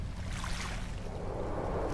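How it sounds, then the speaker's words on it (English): Choppy ocean waves in No Man's Sky wash in a soft, steady, hissing surge, faint and continuous, with no talk. "waves are getting a bit choppy"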